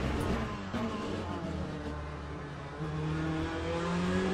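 Ferrari 296 GT3 race car in Le Mans Ultimate at Interlagos, its engine revving and shifting through gears with rising and falling harmonic tones, loud and continuous.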